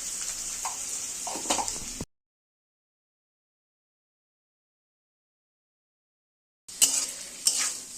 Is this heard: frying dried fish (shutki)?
yes